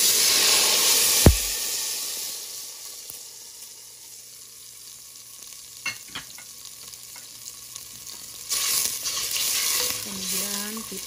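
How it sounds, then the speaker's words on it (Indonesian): Ground spice paste hits hot cooking oil for beef-rib rawon, giving a broad steady sizzle with a few sharp clatters and spatula scrapes; the hiss swells louder again near the end as the paste is stirred. "Jika minyak sudah cukup panas, kemudian kita masukkan bumbu halus."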